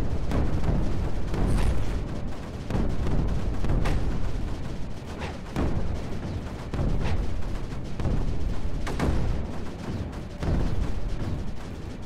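Launchers fire repeatedly in the strategy game Creeper World 4, sending out a relentless series of heavy booms and rumbling blasts that overlap into a loud, continuous barrage.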